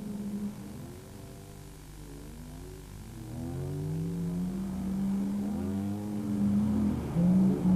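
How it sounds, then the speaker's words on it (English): Dakar rally vehicles stuck in sand rev hard with wheels spinning, engines rising and falling in pitch through repeated surging, whining revs, loud and close with no talk. "People keeping the revs high, keeping the wheels spinning"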